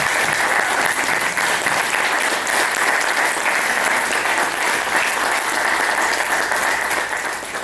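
Steady, dense applause from a wedding crowd fills the whole stretch at an even, fairly loud level, tapering slightly at the end.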